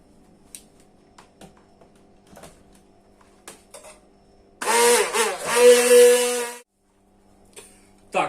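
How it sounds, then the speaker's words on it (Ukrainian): A blender whirs loudly for about two seconds, pureeing eggplant, its motor pitch wavering as it churns, after quiet clinks and taps of kitchen handling. "І це все діло перебуваємо блендером до однородної маси."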